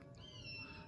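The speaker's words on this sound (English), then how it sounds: "there's a bird calling" A thin, drawn-out high bird call rings faintly in the woods over low background rumble, brief and slightly mewing in tone.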